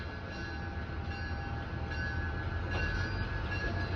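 MARC commuter train at New Carrollton station, a steady low rumble of the passing train with a faint tonal hum, moderately distant and even throughout, no voices.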